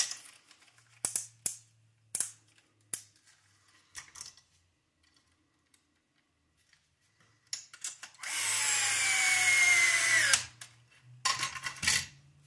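An RC car chassis being bolted together, with scattered small clicks and taps of parts and tools, then a loud two-second burst of a power driver followed by more short buzzes and rattles.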